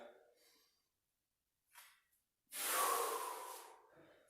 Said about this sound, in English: Slow the breathing.